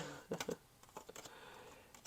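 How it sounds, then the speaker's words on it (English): Linen-cardstock tarot deck being shuffled, a few quick soft card riffles and flicks up close, brief and fairly quiet with no talking. "I really enjoy shuffling this deck."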